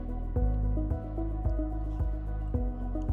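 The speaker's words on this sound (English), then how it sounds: "So I'm going to pour the water out of these." Soaking water poured off anemone corms, heard as a run of close, wet drips and squishy splashes that repeat at a steady pace over a faint background hum.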